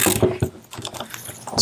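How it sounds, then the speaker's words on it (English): Motorcycle crankcase puller being tightened to lift a crankcase cover off, close-up metallic clicking and ratcheting with small creaks and scrapes, irregular and moderately loud. "it's pushing against the crankshaft that's in here, and it's pulling the crankcase cover up as it moves"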